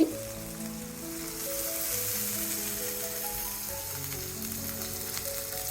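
Ginger and cumin paste sizzles in hot oil with browned onions, a steady, close frying hiss running the whole time under a tonal musical backing.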